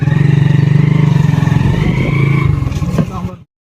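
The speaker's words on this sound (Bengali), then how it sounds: "বাইকে উঠে পড়লাম" A motorcycle engine drones close by with a rapid pulsing throb, steady then fading and cutting out near the end, with a voice heard over it.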